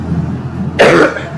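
A single sharp cough bursts out close to the microphone after a moment of quiet room noise, then fades back to background hum.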